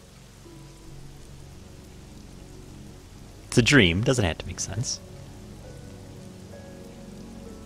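Rain in the video game Killer is Dead, a soft continuous hiss in the background while someone talks briefly over it.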